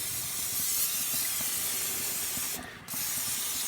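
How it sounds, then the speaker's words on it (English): A spray bottle hisses steadily over hot seared steaks resting on hickory planks, a close, continuous broadband spray that dips briefly near the end before resuming. "Now what I'll do is I'll turn these over and I'll spray the other sides."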